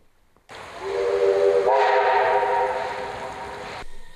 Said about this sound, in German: Erinnert Sie nicht diese Dampfpfeife an die Dampfschifffahrt auf der Elbe?